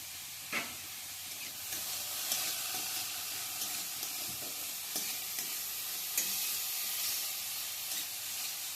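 Vegetables with turmeric powder and salt stirred in a pan, giving a steady sizzling hiss broken by irregular close scrapes and clinks of the spoon against the pan, with no voices.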